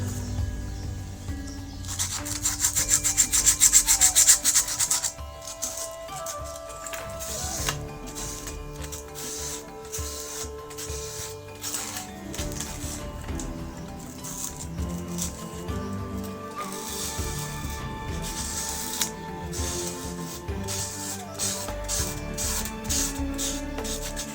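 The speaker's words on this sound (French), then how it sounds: "Là, il faut poncer." Hand sanding of a wooden craft piece to remove small loose fibres, heard as a steady close scratchy rubbing that runs on without pause and is loudest near the start.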